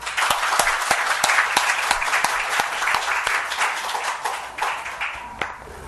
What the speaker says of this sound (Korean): 자, 박수로 하나님 앞에